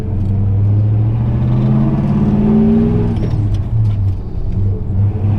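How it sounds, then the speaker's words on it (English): A 1957 Chevy with newly fitted exhaust rumbles loudly and close while driving, a steady low drone that climbs in pitch as it accelerates, then drops and settles back into a throaty cruise. "Listen to that exhaust."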